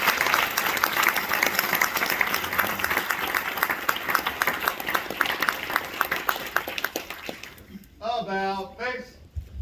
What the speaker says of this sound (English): Please join me in giving the AAP and Dean's List recipients a round of applause.